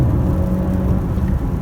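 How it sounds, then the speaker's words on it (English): A Honda CR-V 1.5 Turbo VTEC accelerating hard on a motorway, its engine giving a steady, loud interior drone and rumble with road noise, no voices. "We're starting off at 0, floor it, into second gear, into third gear, 100 kilometers an hour, we're going for 120."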